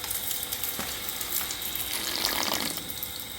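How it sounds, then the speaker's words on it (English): A running water pump fitted with a smart head pours water in a steady, hissing rush, close and continuous with a faint splashing texture and no talking over it. "Alright, so the pump is running."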